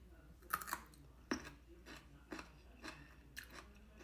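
Crunchy stir-fried Chinese broccoli with garlic chewed close to the mic, a series of sharp crisp bites and crunches in an irregular rhythm, quiet overall with no talking.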